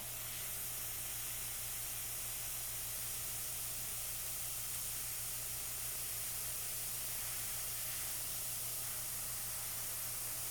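A steady, close airbrush hiss of spraying water runs without pause from start to finish, even and unbroken, with no voices.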